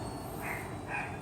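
Dogs barking somewhere off in the background, two soft bark bursts rising over a steady low room noise, with no voices heard.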